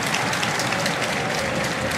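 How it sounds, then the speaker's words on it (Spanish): Stadium crowd at a Colón versus River Plate football match applauds as Colón striker Curuchet is substituted, a dense, steady wash of clapping heard at a distance without a break. "Allí van los aplausos, ingresa Ramírez."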